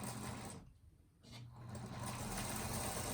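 A sewing machine stitches a fabric table runner with a steady mechanical whir that briefly drops out and then resumes, running close and continuous with no talk.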